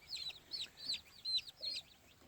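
An old gamefowl hen with her nine newly hatched chicks gives a run of about five quick, soft calls, close and fairly faint, with no other sound around them.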